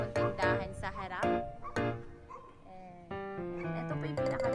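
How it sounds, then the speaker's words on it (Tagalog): A female dog barks and yips in a rapid string of sharp, close barks while chasing, broken by short pauses, with loud tonal barking near the end. "Pero mukhang hahabulin kami ng aso."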